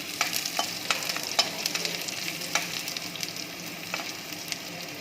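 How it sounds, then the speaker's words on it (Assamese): Chopped garlic frying in leftover fish oil with a few fenugreek seeds, for an Assamese fish tenga, makes a steady close sizzle broken by light utensil scrapes and taps, with no talking. "কাটি থোৱা নহৰুখিনি দি দিম। দুটামান মিঠি গুটি লগতে দি দিছোঁ। নহৰুখিনি অলপ ভাজ খাব দিম।"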